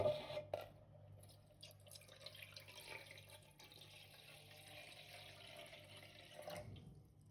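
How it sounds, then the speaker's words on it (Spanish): Water poured into a bowl while preparing arepas in a home kitchen, a soft close splashing trickle that runs steadily for several seconds before tapering, quiet and alone. "Primero, echa el agua en un bol."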